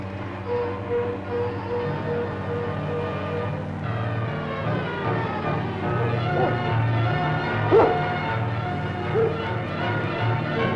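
Several sled dogs bark in bursts amid a dense, busy background of voices and movement, the barking moderately close and steady throughout.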